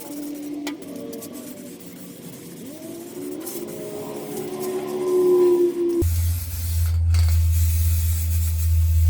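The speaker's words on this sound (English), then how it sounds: "now I'm just going to hit it with some red oxide primer on the bits where I want the red oxide to pull through" A spray can hisses steadily as red oxide primer is laid onto a VW Baja Bug's bodywork for a patina paint job, a close, continuous airy spray with a lower mechanical hum joining partway through.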